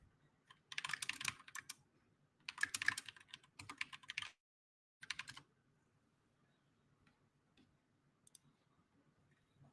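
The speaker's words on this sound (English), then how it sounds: "You're on the keyboard." Quick bursts of clicky typing on a computer keyboard come in three or four rapid clusters, close and crisp, separated by short pauses before fading into a few faint, scattered taps.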